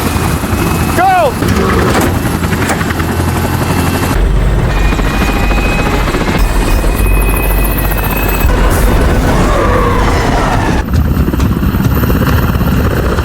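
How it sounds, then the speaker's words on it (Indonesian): A helicopter's steady, loud rotor thrum runs throughout, mixed with other soundtrack noise and some voices. "helikopter yang ditumpangi Pop and the Gang akhirnya terjatuh di sebuah kebun narkoboy"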